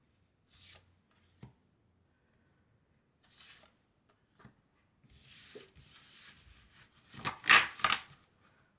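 Tarot cards are shuffled and handled at close range: soft brushing, riffling bursts scattered through quiet pauses, then a denser run of papery rustles and a snap near the end, all fairly faint with no talking.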